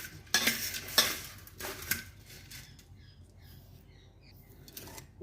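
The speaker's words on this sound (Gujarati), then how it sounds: "લઈ લીધી ચમચી ને હલાવી નાખવાનું" A spoon stirs bhel in a bowl, giving a few sharp scraping clinks in the first two seconds, then softer light tapping and rustling. The sound is close and fairly loud, with no talking.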